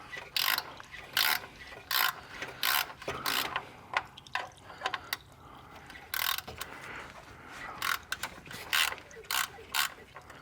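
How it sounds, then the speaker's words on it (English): A small 17 mm ratcheting wrench turns the PDK transmission drain plug on a Porsche Macan. It makes repeated close, crisp clicking bursts in an irregular rhythm, with quiet pauses between strokes. "I'm using a little ratcheting one here because it's 17 mils"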